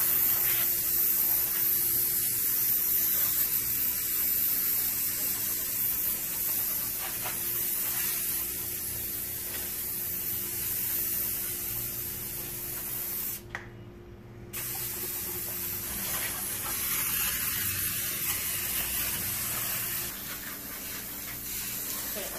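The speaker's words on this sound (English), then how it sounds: "now, we're gonna hit our engine degreaser" Engine degreaser sprayed from a can over a Hyundai Accent engine, a continuous loud close hiss lasting throughout with one short break midway.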